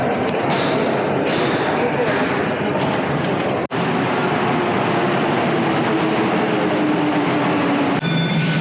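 Santiago metro subway train running through a station, a steady loud rumble with rail clatter and a few sharp thumps, people talking faintly beneath.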